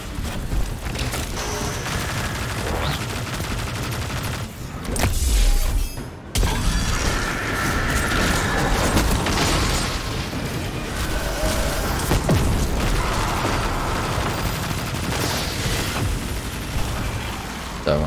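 Rapid bursts of gunfire in Destiny 2 crackle amid explosions and mechanical clatter during a heroic event, loud and continuous with a brief pause midway.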